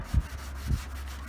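Gritty rubbing across rusty, roughly 40-year-old car paint, heard as two short low scrubbing strokes, close up and fairly quiet, against a steady background hum with no talking.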